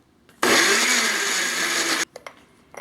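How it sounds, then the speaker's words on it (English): A blender grinds chiles, onion and raw and boiled garlic into salsa for tamales verdes: one loud, steady whirring roar of about a second and a half that starts and stops abruptly, with quiet handling knocks afterward. "And let's blend it until it's very finely ground."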